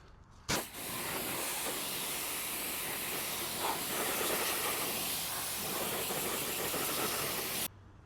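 A pressure-washer spray rinses a Toyota RAV4 wheel. A loud, steady hiss starts abruptly, holds for about seven seconds close by with no talking, then cuts off sharply.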